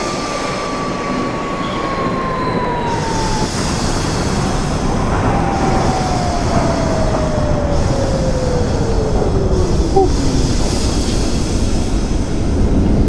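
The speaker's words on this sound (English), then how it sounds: "This is a Manhattan-bound N train." A Manhattan-bound N subway train runs in the openBVE simulator game, a steady loud rumble of wheels on track with a motor whine gliding down in pitch, heard alone without talk.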